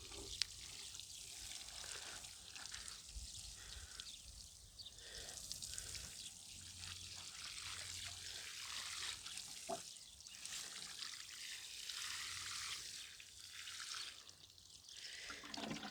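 Water trickles softly over bean seedlings in pots as they are watered, a faint, steady dribble lasting throughout with no voices.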